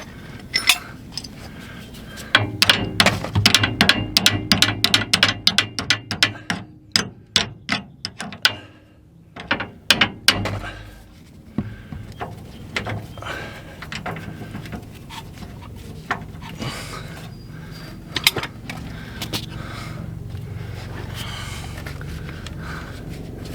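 Metal tool work on a stubborn bolt on the back side of an RV slide room mechanism: a rapid run of sharp ratcheting clicks and clanks, then quieter, scattered metallic taps over a low background hum.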